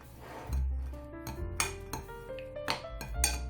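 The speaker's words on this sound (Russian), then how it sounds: "Перемешиваем." A spoon mixes a sweet sausage mass of gingerbread crumbs and dried fruit in a bowl, making several separate clinks and knocks against the dish, close and fairly quiet.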